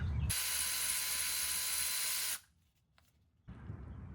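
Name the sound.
wrench loosening Jeep Wrangler JK drive shaft bolts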